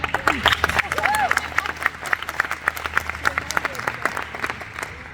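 Conference audience applauding at a business summit, a moderately loud spread of many hands clapping with scattered louder claps and faint crowd murmur underneath.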